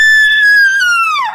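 Godzilla's roar in a video game: one loud, high, screeching cry held for about a second, then sliding down in pitch as it fades, heard alone.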